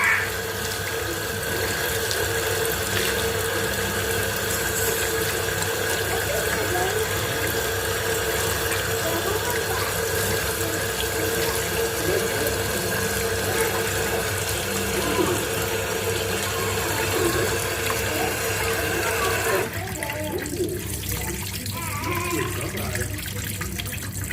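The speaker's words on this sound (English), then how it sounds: "But this is how we wash in the Kelbon." Kelbon being washed under running tap water, a steady close hiss and splash of flowing water that continues for a long stretch before thinning out near the end.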